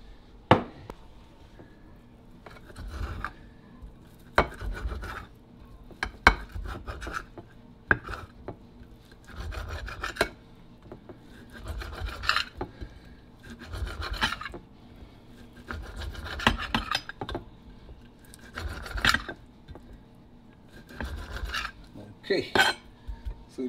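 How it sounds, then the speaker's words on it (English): A knife is drawn through a handheld sharpener in a home kitchen, giving repeated short rasping scrapes in an irregular rhythm, close and moderately quiet, with faint clatter between strokes. "this thing here is the best thing you could use to sharpen a knife."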